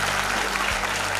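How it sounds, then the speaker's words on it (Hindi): Clapping from the audience at a university convocation ceremony at Devi Ahilya University in Indore, a dense, loud burst of applause lasting about a second. "ताली बजाकर इसे बच्चों को प्रोत्साहन"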